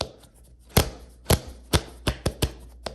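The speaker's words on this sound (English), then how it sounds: "I'm over here flicking these cards around." Sharp, crisp snapping flicks of thin Copag jumbo-index plastic poker cards, seven distinct clicks coming faster toward the end, close and alone with no talk.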